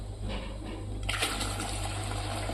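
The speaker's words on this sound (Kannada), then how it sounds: "ಮತ್ತೂ ಒಂದು ಸ್ವಲ್ಪ ನೀರು ಹಾಕ್ಕೊಂಡೇನ್ರಿ" Water poured into milk made from milk powder to thin it, a steady gushing stream that grows fuller and brighter partway through, near and continuous with no talk.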